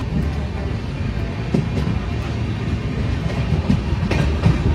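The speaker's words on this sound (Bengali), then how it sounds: "ট্রেন এসে পৌঁছালো দুর্গাপুর" At night the Chambal Express, a Howrah to Gwalior train, rolls into Durgapur station with a steady low rumble and periodic clickety-clack of wheels over rail joints, loud and close throughout.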